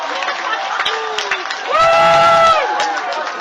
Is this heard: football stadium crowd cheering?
yes